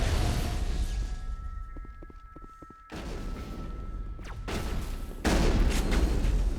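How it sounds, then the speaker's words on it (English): Shotgun blasts in the sci-fi shooter Mass Effect during a fight against geth: loud, close bursts of gunfire with crashing impacts, broken by a short quieter gap, then heavy firing again. "This is why shotguns are great. Run and gun."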